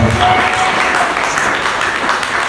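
A congregation at a French-language prayer service applauds together in a dense, steady burst of clapping that fills the room briefly.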